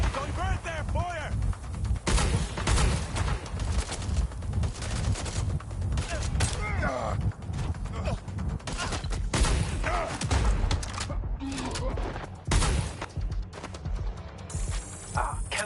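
Gunfire in Watch Dogs Legion, dense volleys of shots with mechanical clatter and impacts, loud and continuous, with game voices shouting in between.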